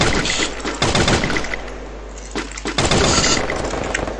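Free Fire video game gunfire, rapid bursts of automatic shots in two loud clusters with a brief lull between them, close and sharp.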